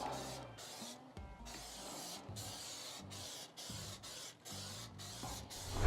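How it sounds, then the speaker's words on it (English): Bursts of hissing oil spray from a spray bottle, coating a new Lone Star Grillz offset smoker, come one after another with short pauses between them, close by and fairly steady. "We want to get it sprayed with this oil, all right? Start spraying."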